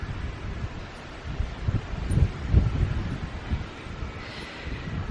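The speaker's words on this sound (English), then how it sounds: "a poppy thrashing about in the wind" Wind gusting through an autumn garden bed of lupins, aquilegia and a poppy, a steady low rumble of moving air and rustling foliage that swells in a few stronger gusts, with no talking.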